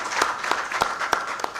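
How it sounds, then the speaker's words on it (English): An audience at a results-release ceremony claps in a loose, moderately loud burst, with individual hand claps standing out at irregular intervals. "We can clap for them"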